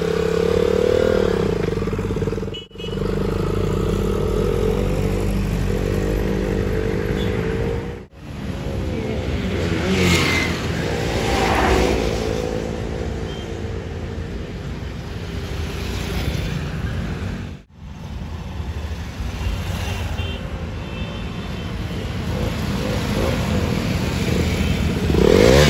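A 200 cc motorcycle is ridden, its engine a continuous close drone with rushing wind, briefly dropping out a few times but otherwise steady, with no talk.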